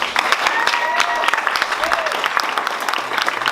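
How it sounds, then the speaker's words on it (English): A round of applause at a charity golf tournament foundation event, many hands clapping in a thick steady patter with a few whoops or cheers rising through it. "Would you please give this guy a round of applause?"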